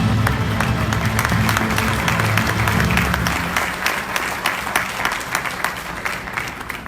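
A conference audience applauds to welcome a keynote speaker. Dense, steady clapping fills the hall and then thins into scattered claps toward the end, with no speech heard.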